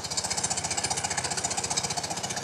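BMW Airhead motorcycle engine, recently given a top-end refresh, fires up with the choke on and settles into a steady, close, loud idle with an even rapid pulsing beat.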